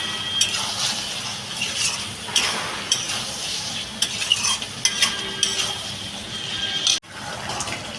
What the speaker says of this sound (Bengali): আমি এবার বন্ধুরা সবজিটা একটু নাড়াচাড়া দিয়ে ঢাকা দিয়ে দেবো